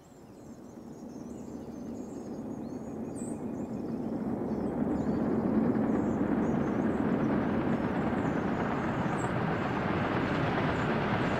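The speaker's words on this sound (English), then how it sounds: "I can hear another train coming." A train in the Soviet Republic management game Workers & Resources approaches as a low rumble that swells steadily and then holds at a loud, constant roar, with no talking.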